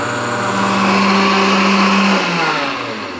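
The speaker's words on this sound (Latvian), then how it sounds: "Varat izmantot blenderi." An electric kitchen blender grinding granulated sugar into powdered sugar, a loud steady whirring motor with a falling pitch near the end, heard alone.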